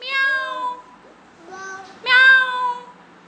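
A voice imitates a cat's meow in clear, drawn-out sung tones during a speech therapy session with a hearing-impaired child: three separate meows, loud and close, with short pauses between.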